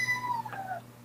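A house cat gives a short, clear meow up close, slightly falling in pitch, over a low steady background hum.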